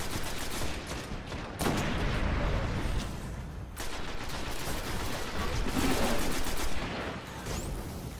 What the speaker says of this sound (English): now would be a good time for that pistol